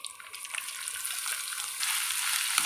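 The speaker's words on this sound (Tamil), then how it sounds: "பண்ணி வச்சுருக்கக்கூடிய வெங்காயத்தை அதில் சேர்த்துக்கலாம்." Onions frying in a pan for vegetable kurma, a close, steady hiss and crackle of sizzling oil that swells slightly louder toward the end, with faint stirring and no talk.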